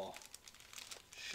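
WWE trading cards are shuffled during a box break, a brief run of soft, close crinkling and flicking, with a person talking over it.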